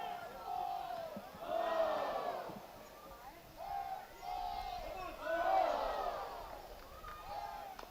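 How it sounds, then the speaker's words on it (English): A college baseball crowd at a Wichita State versus East Carolina game rises in two swelling waves of yelling and chanting, heard at a distance beneath a commentator's talk. "This crowd trying to be a factor, looking to motivate its team."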